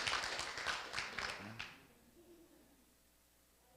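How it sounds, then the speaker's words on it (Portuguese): Audience in a health lecture hall claps hands together for about a second and a half, a dense burst of loud, overlapping claps that quickly fades into quiet room tone. "Palmas, né? Palmas."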